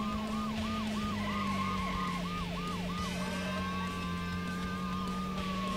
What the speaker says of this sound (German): Können auch nochmal die Sirene ausmachen